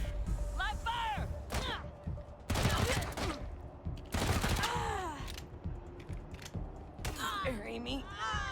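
Gunfire and mechanical clatter in the video game Wasteland 3, several loud bursts of shots mixed with creaks and game effects, with voices heard at times.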